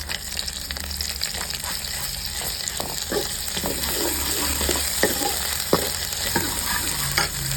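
Onions with a little ginger garlic paste sizzling and frying in a pan, with steady crackle and repeated scraping stir strokes close by, for a Tamil fish curry; no talking.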